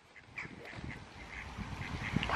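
Ducks quack in a repeated rhythm of fairly faint calls while a toddler feeds them bread outdoors, with some background noise underneath.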